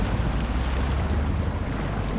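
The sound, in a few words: truck driving through water in Snowrunner video game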